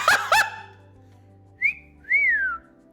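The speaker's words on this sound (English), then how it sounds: "Cocky whistling." Cocky whistling from a game character in Arknights: two quick sharp chirps, a pause, then a short whistled note and a longer falling one, clear and close with quiet background.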